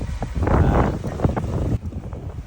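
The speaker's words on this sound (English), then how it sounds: "Wind's picked up, we're doing 6 knots." Gusty wind roars across a sailboat's microphone in a squall, loud broadband buffeting that surges and then eases near the end, with no talk.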